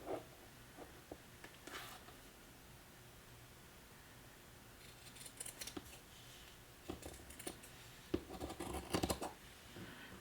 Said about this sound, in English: I'm going to cut it with these scissors first.